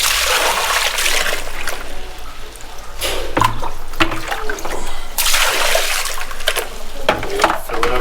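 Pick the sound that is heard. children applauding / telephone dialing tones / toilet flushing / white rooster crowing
toilet flushing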